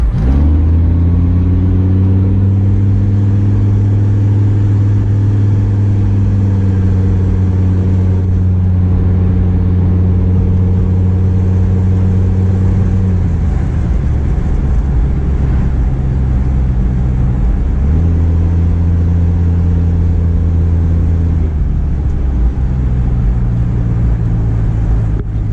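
A 31-year-old Mercedes diesel wagon with a large subwoofer in the back drives along. The engine drones loud and steady through rising and falling gears, with two clear shifts and a constant road rumble.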